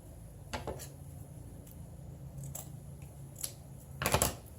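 Scissors snip through ribbon while a fall kitchen vignette is being decorated, a few quiet, crisp cuts spaced out, ending in a quick cluster of snips, close and soft against a hushed room.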